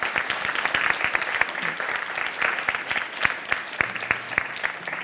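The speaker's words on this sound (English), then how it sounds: "students on stage, if you can give your parents a nice little round of applause" Audience at a high school band concert applauds the parents, with crisp individual claps standing out over a dense, fairly close round of clapping that holds steady throughout.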